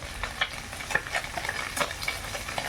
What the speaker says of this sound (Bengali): আর এদিকে ভাজা হচ্ছে